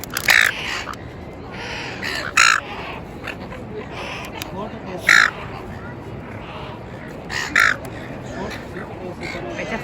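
Gulls of several types gather around a train station, giving four or five loud, separate calls over steady background bustle and indistinct voices.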